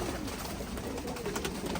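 Racing pigeons, part of a loft of over a hundred and fifty birds, coo softly and continuously nearby over a steady broadband background hiss, with no talking.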